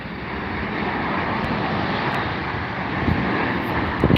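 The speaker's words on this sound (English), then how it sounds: "Next up, ladies and gentlemen, is a 787-9 Dreamliner from Abu Dhabi" Etihad Boeing 787-9 Dreamliner airliner from Abu Dhabi passing at London Heathrow, a steady broadband jet roar that holds loud and even throughout with slight swelling near the end, no talk over it.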